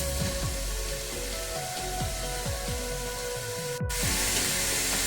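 Zucchini and carrot sizzle steadily in a hot pan, a continuous close frying hiss with occasional small pops and crackles, no voices.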